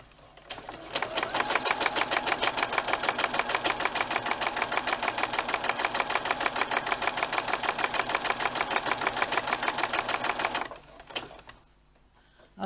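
A Brother sewing and embroidery machine runs a straight stitch in one long, even burst of rapid mechanical clatter. It starts after a brief pause, holds a steady fast rhythm close up for about ten seconds, then stops abruptly.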